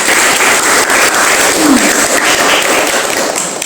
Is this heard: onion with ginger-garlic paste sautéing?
no